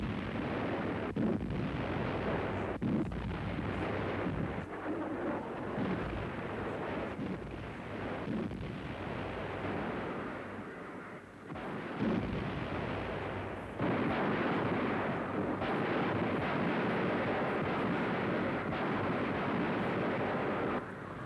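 Distant artillery fire from the Phoney War of 1939–40, a continuous rumbling roar of booms and blasts mixed with wind noise, steady throughout with no talking.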